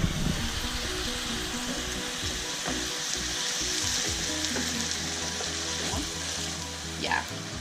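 Hot broth ladled into a pan of risotto with porcini mushrooms and peas, a steady close sizzle and bubbling hiss with occasional stirring scrapes.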